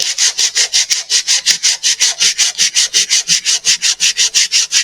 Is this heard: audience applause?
no